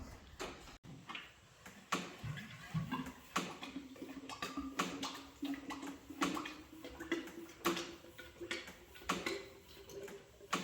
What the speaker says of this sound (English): the drips are getting pretty slow